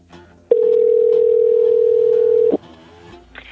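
A telephone dial tone sounds while calling the main number of Takaro Lodge in New Zealand. A loud, steady, unbroken tone holds for about two seconds, then cuts off with a click into quiet line noise.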